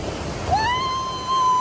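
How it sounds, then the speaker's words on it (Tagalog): Sea waves wash onto a clean beach at sunset in a steady broadband surf hiss, close and fairly loud, with a rising whistle-like tone sliding in partway through over the water noise. "Guys, ito yung dagat."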